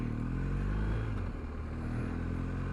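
A 2021 BMW R1250GS Rally SE boxer engine runs on the road, a steady, smooth low drone blended with wind rush, loud and continuous with a slight dip midway.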